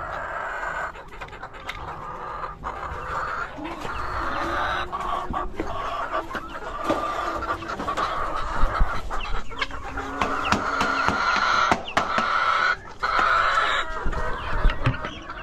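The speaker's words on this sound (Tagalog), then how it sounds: "At magpapakain tayo dito sa ating mga alagang manok." Backyard chickens cluck busily at feeding time, a dense, lively chorus of near and far clucks and squawks over scratching and rustling, with the occasional rooster crow.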